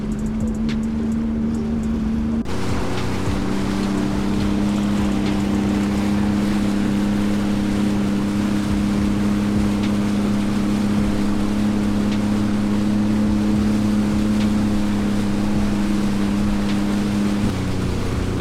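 A harbour cruise boat on Buffalo harbour water gives a steady loud engine drone with a low hum, wind and water rush continuing throughout.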